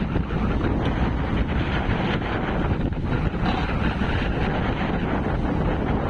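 Strong gusty wind at sea buffeting the microphone on a fishing boat in the Pacific, a loud continuous roar with low rumble and splashing water, no talk.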